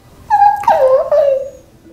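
A husky lets out a close, loud whimpering whine, made of three drawn-out, rising and falling cries over about a second and a half, with no voices.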